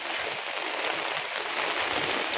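Heavy typhoon rain pouring outdoors in Taiwan during a power outage, a steady, dense hiss of falling water that stays constant throughout with no voices.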